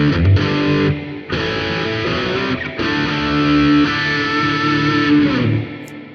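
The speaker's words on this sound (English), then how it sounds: "So the intro distorted part sounds like this." Heavily distorted electric guitar plays an intro part through a Quad Cortex preset, with thick sustained chords that stop briefly twice before ringing out, loud and alone.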